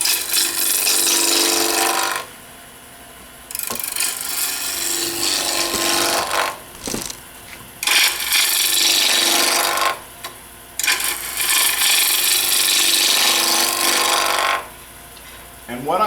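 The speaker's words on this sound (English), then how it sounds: "I'm using the standard bowl gouge for this, and I'm just going to start" A bowl gouge cutting a spinning wood blank on a lathe while a Christmas ornament is turned, with steady loud scraping and hissing cuts in long passes broken by brief quiet gaps.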